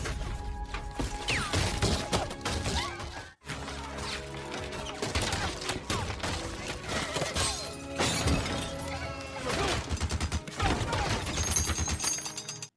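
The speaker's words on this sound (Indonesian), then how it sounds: "Sam dan kawan-kawan kemudian dihujani peluru oleh Bogu yang membuat mereka sangat panik" A Gatling gun fires in a Western film battle scene, a dense rapid clatter of shots mixed with crashes and breaking debris under a loud, continuous film soundtrack, with a brief gap partway through.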